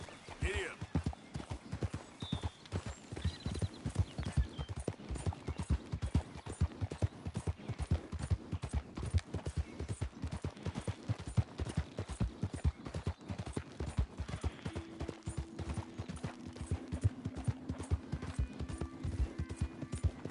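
Galloping horse hooves from the Red Dead Redemption 2 video game, a rapid continuous clip-clop pounding throughout with a brief tonal hum near the end.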